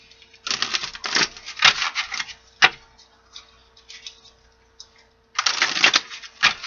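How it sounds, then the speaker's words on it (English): A deck of oracle cards is riffled in quick, crisp bursts, a few separate shuffles with short pauses between, close and clear with no talking. "4 shuffles, my guides"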